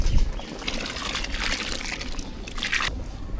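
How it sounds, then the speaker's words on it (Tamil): Tamarind water pouring into a pot of thalicha curry, a steady liquid trickle and splash lasting a few seconds, fairly close and uninterrupted by talk. "தாளிச்சாவுக்கு இப்போ புளி தண்ணி சேர்த்துக்கலாம்."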